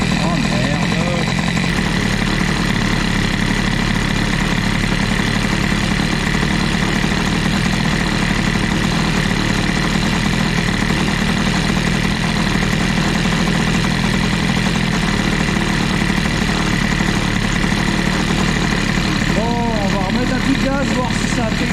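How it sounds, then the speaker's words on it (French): A scooter engine fitted with an Airsal CPI 70 kit and a leaned carburettor setting idles steadily, a buzzing two-stroke drone close to the microphone, with a brief blip near the end and someone speaking over it. "Ça va retourner un petit peu au ralenti pendant quelques secondes."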